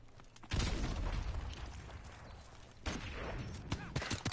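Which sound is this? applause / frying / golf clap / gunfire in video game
gunfire in video game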